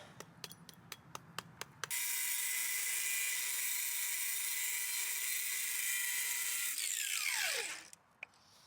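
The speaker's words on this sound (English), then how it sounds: "Before repairs, I clean it up with a sandblaster." A few sharp taps, then a sandblaster blasting a cast bronze elk antler clean with a loud, steady hiss that lasts several seconds before winding down, followed by a couple more light knocks.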